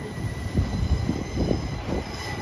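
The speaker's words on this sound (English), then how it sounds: "here comes the delayed 12:51 Transport for Wales service to Manchester Cardiff from Cardiff Central" A delayed Transport for Wales passenger train from Cardiff Central pulls into Shrewsbury station with a steady, close rumble, a thin high squeal from the wheels running throughout.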